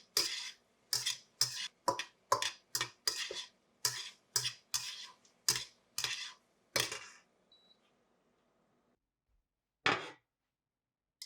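A utensil stirs fried eggplant in a wok, striking the metal in a quick run of about a dozen sharp, rhythmic clacks and scrapes, then pausing before one final knock; nearby and with no talking.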